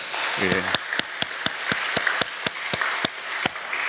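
Congregation at a Friday prayer meeting in a church claps for its volunteers, a steady near rhythm of sharp hand claps over a dense wash of applause, with a brief voice near the start.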